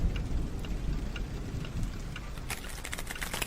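Steady heavy rain pours throughout a storm, with a dense continuous patter and low rumbling thunder underneath, growing brighter and harsher in the last second.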